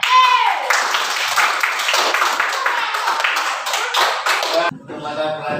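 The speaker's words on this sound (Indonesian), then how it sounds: "Nah, tepuk tangan semuanya." A classroom of students claps together after a coding and artificial intelligence lesson, brisk close clapping for nearly five seconds that stops abruptly, followed by a voice speaking.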